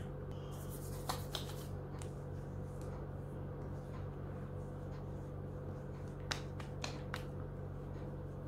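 Hands patting hydrating green tea toner onto the face, soft quiet taps close up, a few sharper pats scattered through near silence.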